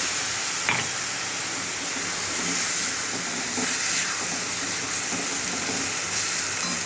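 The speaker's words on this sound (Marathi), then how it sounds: "आता ह्याच्यामध्ये थोडंसं आपण पाणी ओतूया" Water poured into hot chilli masala in a pan sets off a steady, loud hissing sizzle with steam that holds for the whole stretch, with faint stirring clinks now and then.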